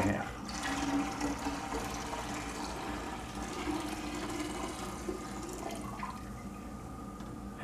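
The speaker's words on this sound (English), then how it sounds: "We're only going to put in 1 gallon of water, which we poured here." Water pours steadily into a Berkey countertop water filter, a continuous close splashing rush that holds even for several seconds, with no talking over it.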